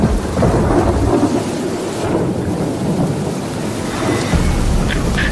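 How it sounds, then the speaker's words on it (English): Heavy tropical thunderstorm at a South African outdoor Survivor challenge, with a steady roar of loud rain and deep continuous rumbling thunder throughout, no speech. "Through sunshine, through rain, through tropical thunderstorms."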